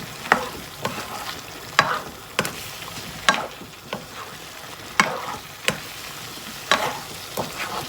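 Utensil scraping and stirring pumpkin and egg stir-fry with green onions in a pan, sharp clacks at a steady irregular rhythm over a faint continuous sizzle, close and moderately loud, no voices.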